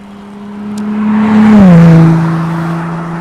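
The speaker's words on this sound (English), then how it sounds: "just passed us, a Ferrari" A Ferrari sports car engine roars up loudly and sweeps past close by, its pitch dropping as it goes, then fades with steady wind noise behind.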